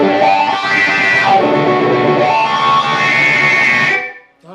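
Distorted electric guitar riff with a wah pedal sweeping up from the down position, sustained and dense for about four seconds, then cut off abruptly.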